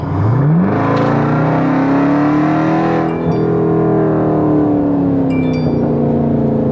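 Supercharged V8 in a Jeep Trackhawk revs hard, its loud engine note climbing steeply then holding a high, sustained roar before easing slightly and rising again, close and alone with no talk.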